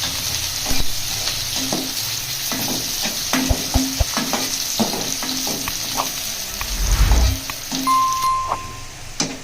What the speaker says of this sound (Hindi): जैसे ही ज़ीरा हल्का सा भुन जाएगा हम इसमें प्याज ऐड कर देंगे।